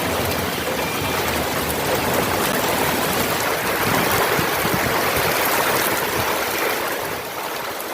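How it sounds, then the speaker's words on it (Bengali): Steady, dense rain falls during a thunderstorm in South Bengal, a continuous broadband hiss and patter that stays loud and even throughout, with no voices. "বৃষ্টি।"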